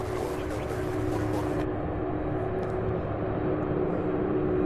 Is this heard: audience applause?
no